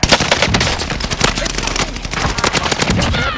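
Sustained machine gun fire in the video game Warzone, loud and close, with rapid overlapping bursts that hardly pause.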